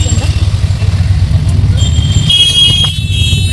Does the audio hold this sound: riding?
yes